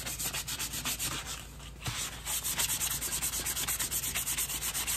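Steady back-and-forth rasping as sandpaper works a plain wooden dowel neck of a diddley bow, rhythmic strokes close up with a brief pause midway before the strokes resume.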